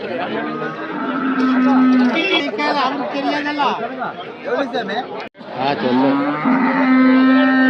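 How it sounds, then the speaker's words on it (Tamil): Cattle lowing loudly and repeatedly at a Sunday dairy cow market in Anthiyur, with long sustained moos rising over steady crowd chatter and people talking nearby. "கண்ணு மாடுங்க"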